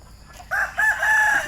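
A large red gamefowl rooster crows once from fairly close range, a loud stretched call that breaks briefly and then holds steady to the end, with no other voices.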